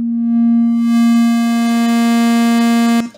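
A steady, pure modular synthesizer tone from the MRB Vector Processor envelope in Voltage Modular, with a strong low fundamental and bright harmonics, holding evenly at sustain for about three seconds before cutting off abruptly.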